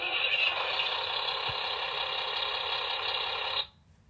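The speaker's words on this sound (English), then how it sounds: "you have an engine startup" Electronic engine startup sound effect from a 2022 Hess toy flatbed truck, a tinny buzzing rumble played through a small speaker that runs steadily for about three and a half seconds before cutting off abruptly.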